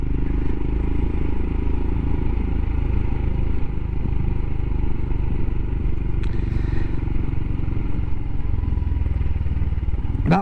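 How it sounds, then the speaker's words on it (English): Royal Enfield Himalayan motorcycle exhaust on a ride through a port town, a continuous loud low rumble of the engine with wind noise, steady throughout and close by. "I love that exhaust"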